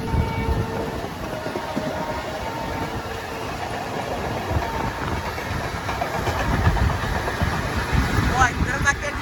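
A goods train runs alongside a moving Krishna Express passenger train, making a steady, broad rolling rumble with faint rail clatter that holds evenly and swells slightly near the end.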